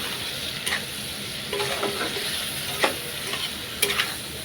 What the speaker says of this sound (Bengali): আমি এখন দিয়ে দিব পাকা টমেটো